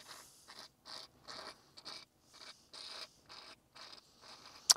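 Perrin shift knob parts being screwed together on a 2022 Subaru WRX: a series of short, close, faint ratcheting creaks in regular bursts, ending with a sharp click, with no talking.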